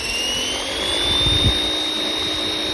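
A large, powerful RC helicopter flies nearby with a steady high-pitched turbine-like whine and rotor drone, rising slightly in pitch and swelling briefly in loudness as it passes.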